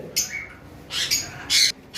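A parrot lets out several harsh, shrill squawks in quick succession, close and loud, with short gaps between the calls.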